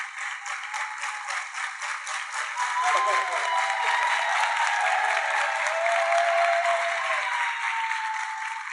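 Steady group clapping from an audience at a religious discourse in Melbourne rises and holds, with a voice speaking over the applause.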